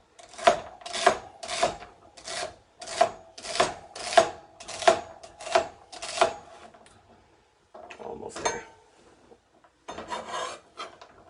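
A knife chops through celery on a cutting board for clam chowder, making about a dozen evenly spaced crisp crunches close by, followed by a few more irregular cuts.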